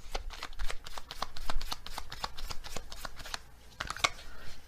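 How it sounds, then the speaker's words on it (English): A deck of animal oracle cards is shuffled by hand, a rapid run of crisp flicks and riffles close up that pauses briefly and then ends with a few last snaps. "let's get another animal card."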